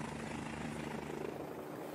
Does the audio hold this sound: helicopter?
yes